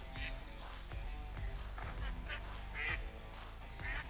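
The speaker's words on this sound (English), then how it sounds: "Here comes the ducks." Ducks at a newly dug farm pond quack repeatedly in short bursts over a steady low background rumble. Someone talks nearby between the calls.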